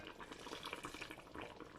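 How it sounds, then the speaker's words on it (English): Water poured from a tap or jug into a pot over curried goat meat in a home kitchen, a steady close splashing and filling sound throughout, with no talk. "So I've had some water on the top now."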